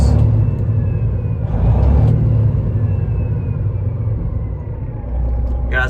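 A 2016 Peterbilt 389 glider truck with a Detroit engine rumbles close by, revving steadily with a smooth low drone and a brief rise in the middle before settling back to idle.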